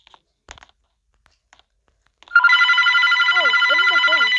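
A telephone rings suddenly and loudly after a few quiet knocks and rustles, sounding as a steady, sustained electronic trill, and a voice talks over the ringing partway through.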